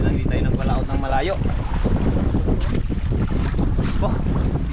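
Strong wind blowing at sea around a boat, a constant loud roaring buffet with no letup, while faint voices talk in the background.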